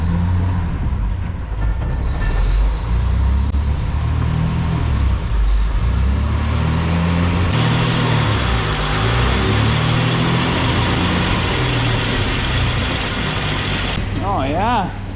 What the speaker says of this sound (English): you can hear the brake drum starting to resurface back there